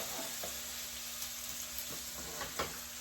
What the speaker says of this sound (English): You can probably hear them sizzling.